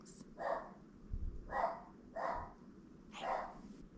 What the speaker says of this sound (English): He likes to bark at things.